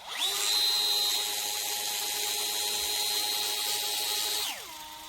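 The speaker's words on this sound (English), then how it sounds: "You turn your hand, it spins up, go the other way, and it loosens." A DEWALT 8V MAX cordless gyroscopic screwdriver whirs up to a steady high motor whine, holds it for about four seconds, then winds down quickly. It is close and heard alone.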